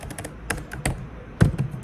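Keys clatter on a computer keyboard during coding of a custom programming language, a few scattered taps followed by a sharper cluster near the end, close and fairly quiet with no talking.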